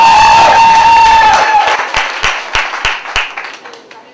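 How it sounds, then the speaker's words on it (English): An audience at a New York City poetry slam claps and cheers loudly. A whooping voice rides over the start, then the applause settles into rhythmic group clapping that gradually fades. "Clap it up"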